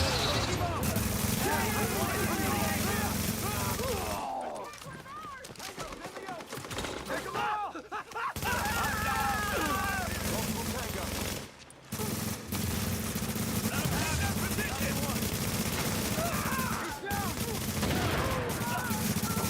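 A video game shootout in Division PvE play, with bursts of automatic gunfire and rapid shots filling most of the stretch, broken by a few brief lulls, with voices calling out in between.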